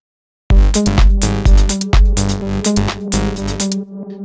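A synth bass line in FL Studio plays a short repeated techno riff with punchy, buzzy, bright notes and no filter sweep or filter envelope, loud and alone.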